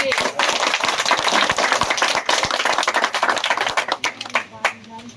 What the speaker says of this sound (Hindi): ठीक है, ताली बजा दी।